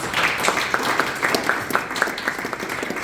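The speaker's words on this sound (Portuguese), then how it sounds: "As palmas que louvam o Senhor Jesus." A church congregation at a Baptist service claps together, a dense, even burst of applause with sharp individual hand claps standing out, no speech over it.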